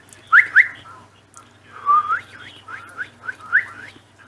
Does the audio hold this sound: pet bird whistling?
yes